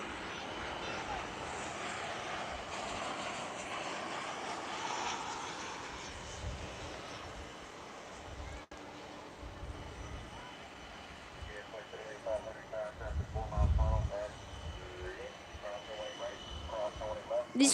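A Boeing 737 airliner arriving from Boise lands on runway 18 right at DFW airport, its engine roar rising and then fading at a distance, with someone talking over it for much of the time.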